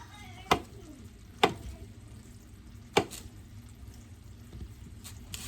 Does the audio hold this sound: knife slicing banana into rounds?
yes